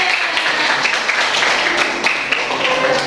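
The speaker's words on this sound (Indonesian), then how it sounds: "Tepuk tangan dong buat kelompoknya." Students in a classroom applaud a group about to present, a brisk, continuous patter of many hands clapping at close range, steady throughout.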